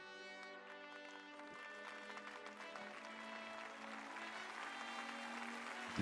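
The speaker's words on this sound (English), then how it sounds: "Crowd cheers," A crowd cheers and applauds in Octopath Traveler during the Chapter 4 story sequence, a steady, fairly quiet wash of clapping and cheers that holds for several seconds over a tonal musical score, with no talk.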